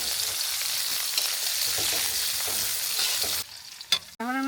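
Chopped onion sizzles in hot oil in a pan with cardamom, cinnamon and bay leaves, a bright, busy crackle that runs loud and close, then cuts out near the end with a brief clatter.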